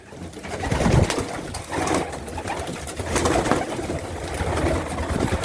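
Pigeons coo softly and repeatedly amid a busy outdoor din, with rustling and low rumbling noise running steadily throughout.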